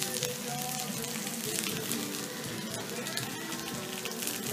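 Pepper, onion and celery hit shimmering olive oil in a pan for jambalaya, giving a soft, steady crackling sizzle throughout, fairly quiet.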